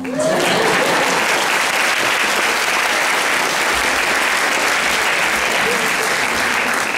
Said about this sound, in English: That's it, you can applaud now.